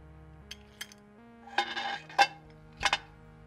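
Metal scooter headset bearings clink and rattle as they are handled for greasing during a custom pro scooter build, giving a few sharp, close metallic taps and jingles with quiet gaps between them.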